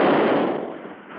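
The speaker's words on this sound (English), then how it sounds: "They're firing gas into the building." Gas being fired into a warehouse under repair, staged as a radio drama effect: a loud broad hissing blast that is strongest at the start, then eases off and trails away over about a second.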